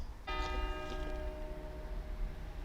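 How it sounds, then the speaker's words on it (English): A church bell in old-town Pula, Croatia, strikes once or twice with a long ringing, resonant decay, heard at a distance over steady outdoor ambient noise. "there goes the bell"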